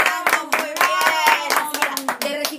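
Audience in a theater clapping and cheering to welcome a guest, the claps coming in dense bursts close by with a few excited voices mixed in.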